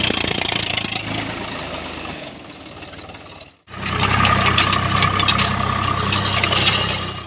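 A tractor pulling a plough through a field for wheat sowing runs with a steady, throbbing diesel note. It drops briefly to near silence midway, then returns louder and closer, with a heavy low rumble.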